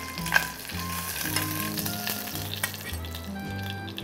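Chicken legs pan-fry in oil with a loud, continuous close-up sizzle and crackle, a few light stirring scrapes and pops over it, and no talking.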